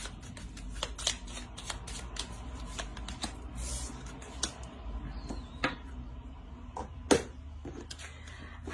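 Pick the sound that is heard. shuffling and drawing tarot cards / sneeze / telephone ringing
shuffling and drawing tarot cards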